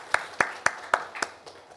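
A church congregation claps in worship: six or so crisp, evenly spaced claps in a steady rhythm that fade slightly toward the end, with no talking.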